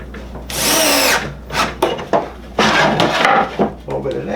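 A power drill drives a screw into a Festool mounting rail for a Systainer 3 storage system, sounding as loud close bursts of whirring that start and stop several times across the clip.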